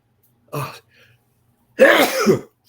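A sudden hay fever sneeze bursts out twice, close and loud, with a short quiet gap between the two explosive releases.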